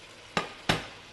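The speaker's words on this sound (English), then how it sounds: "Now we can put our liver in," Chicken liver pieces dropped into a hot pan for a bhuna, two quick sizzling bursts close together, each flaring up loudly then fading into a soft background hiss.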